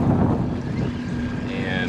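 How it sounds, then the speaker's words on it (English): Wind buffets the microphone aboard a Robalo R180 boat on rough water near Collier Bay, Marco Island, Florida, a loud roaring rumble with hull and water noise throughout. "it is a little windy, it's a little rough"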